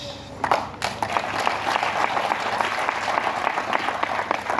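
Audience at a business training seminar claps steadily, a dense continuous wash of applause from many hands at close range that holds evenly throughout.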